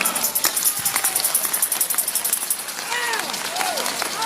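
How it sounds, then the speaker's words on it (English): A church congregation claps in a fast, steady rhythm, with crowd voices and calls rising over the clapping in the second half. "Give the Lord a clap of it."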